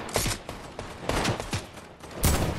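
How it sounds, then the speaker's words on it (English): Bursts of gunfire from a shooter video game, several sharp volleys spread across a couple of seconds with a loud final burst, set against a noisy battle background and no talking. "Oh, I'm being shot at."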